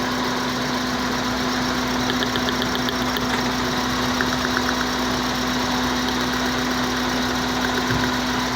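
A Toyota Vios with a dual VVT-i engine idles roughly with the air conditioning on, giving a steady, close engine drone with a strong low hum, a faint intermittent rattle and constant vibration.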